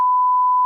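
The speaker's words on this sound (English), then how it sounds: "I'll have to beep that too" A single clean censor beep, a steady pure tone held loud and unbroken for under a second.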